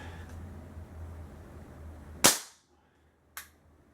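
A single sharp crack from an air rifle firing an H&N Hornet pellet, loud and close with a short decay, followed about a second later by a fainter snap of impact, over low steady room hum.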